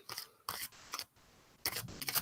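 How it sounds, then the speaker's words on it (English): Thick-cardstock tarot cards being shuffled by hand, with several loud crisp riffling bursts separated by short pauses, close up and without talk. "put them together and start to shuffle them up, see how it feels"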